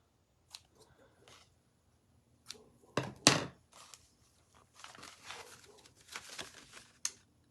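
Scissors snip off the end of a paper tag for a jumbo tag waterfall journal, giving a few short crisp cuts and paper rustles at close range in a quiet room, with one louder burst midway.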